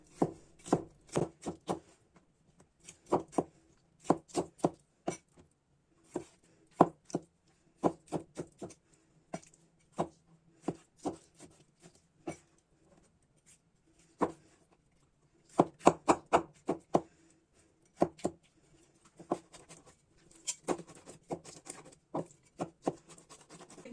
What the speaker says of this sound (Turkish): domates, biber, patlıcanlarımızı güzelce zırhtan geçirdim. Şimdi aynı şekilde soğanlarımızı da geçireceğim.